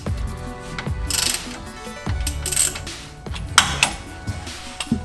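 Metallic clinks and ratcheting clicks ring out in uneven bursts, close and fairly loud, as a drain plug is threaded and tightened into a Toyota Tacoma rear differential at 170,000 miles.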